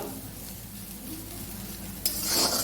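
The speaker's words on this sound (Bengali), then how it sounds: "শাকটা ভাজা হয়ে গেল" Leafy greens fried in a little oil sizzle steadily in the pan while being stirred, ending in a sharper burst of scraping and clatter as the utensil strikes the pan.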